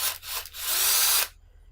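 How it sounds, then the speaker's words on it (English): A big power drill whirs briefly, stuttering twice before a steady second-long run, while drilling out hinge cover ends on a Game Boy Macro build; the sound is close and loud, then stops abruptly. "we use the drill to drill those out a little bit"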